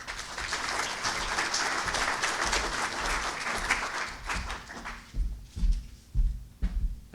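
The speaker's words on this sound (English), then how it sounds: "So big round of applause for Neil Osment" An audience at a UK corrugated industry update applauds a presenter, a dense, steady clapping from many hands that thins out into a few scattered, louder claps near the end.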